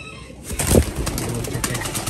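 Pigeons in a home loft coo and beat their wings close by, a burst of flapping rising over soft throaty cooing, the sounds loud and near.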